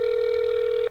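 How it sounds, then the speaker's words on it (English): A telephone ringback tone over a speakerphone on a call to Lucasfilm, one steady electronic tone held for almost a second and then cut off, loud and close. "now it's ringing"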